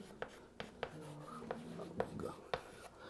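A pen or chalk taps and scrapes on a board as the name of a chemical ligand is written out, in quick, evenly spaced strokes under a teacher's spoken explanation.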